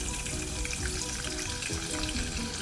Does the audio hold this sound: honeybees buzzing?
no